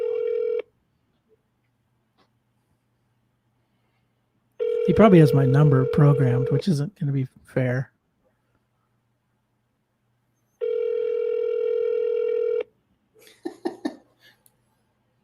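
A telephone call is dialed and rings unanswered, with steady ringback tones in long bursts separated by silence, while someone talks and coughs between the rings.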